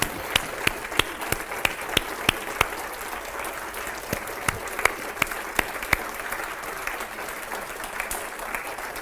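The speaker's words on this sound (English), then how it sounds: "And let's give them applause." A moderately quiet audience gives steady applause for the organizers of a Virginia Beach ancient mysteries conference, with scattered sharper individual claps standing out above the soft, continuous patter.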